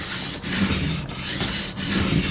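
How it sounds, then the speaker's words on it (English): A pocket knife is stroked across a sharpening stone freshly refaced with a Nagura, making a continuous close gritty scraping with brief dips between passes, roughly three long strokes. "So we can take off sharpening again."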